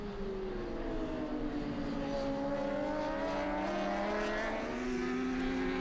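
Kawasaki superbikes race at the Nogaro circuit in an FSBK round, high-revving engines whining and sliding in pitch as the bikes pass, a continuous layered mechanical howl at moderate distance with no voices.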